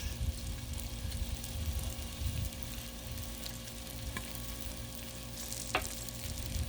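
Sausages sizzle and crackle continuously on a Blackstone griddle as they are flipped, with a couple of faint spatula scrapes over the steady frying hiss.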